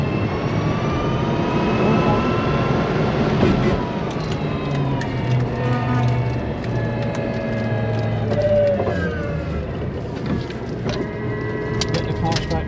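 An electric race car at an all-electric motorsport event accelerates at full throttle, its motor giving a rising, whining pitch over a steady roar, with voices talking over it.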